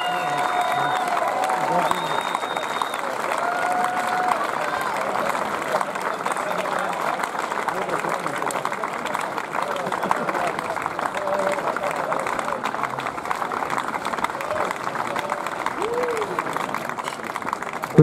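Steady crowd applause at the Bratislava Open 2019 tennis Challenger singles ceremony, honoring the winner; dense continuous clapping fills the whole stretch at an even level while an announcer's voice carries over it.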